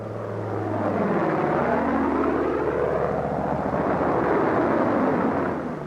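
A propeller airplane flies in low on approach to land, peeling up to reduce speed, its steady droning engine loud and close for several seconds, swelling slightly as it passes, with no voices.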